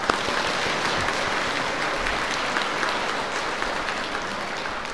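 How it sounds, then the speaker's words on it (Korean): A church congregation applauds at a Christmas Eve night Mass, steady dense clapping filling the space evenly from start to finish. "박수"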